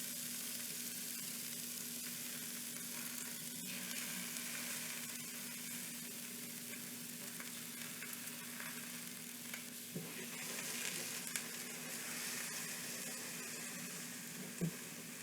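Garlic and face-down tomatoes sautéing in olive oil, a faint, steady sizzle holding for the whole stretch, with a few small clicks and a brief tap of a utensil near the end, no voices.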